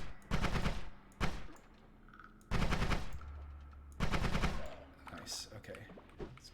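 Gunfire from the video game Spelunky, with three or four long bursts of loud, rapid crackling shots separated by short gaps, mixed with game effects and talk.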